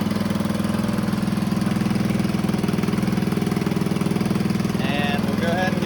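A single-cylinder Farmall M tractor engine runs steadily at a governed-up idle, a loud, even chugging pulse throughout, with a faint higher whine near the end.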